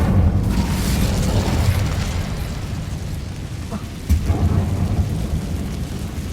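A fire spell cast in Hogwarts Legacy on PS5 erupts as a loud, continuous roaring whoosh with a deep rumbling body, surging again near the end with a fresh burst.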